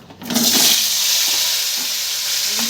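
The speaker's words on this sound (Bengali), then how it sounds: "এবার আমি আলুটা ছেড়ে দেবো কড়াইতে" Potatoes are dropped into hot oil in a wok, and a loud, steady sizzle starts abruptly and continues close up with faint crackles, with no talking.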